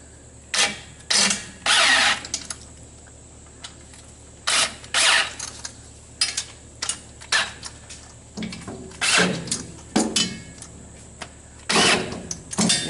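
A corded electric driver snugs header bolts on a 1962 Mercury Comet with a 460 cubic inch engine, firing in about a dozen short whirring bursts separated by pauses, fairly close and moderately loud.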